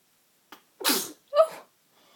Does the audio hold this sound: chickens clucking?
no